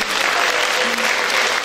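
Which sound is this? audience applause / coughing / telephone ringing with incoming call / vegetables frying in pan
audience applause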